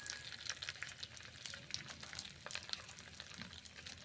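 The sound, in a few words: peanuts frying in a pan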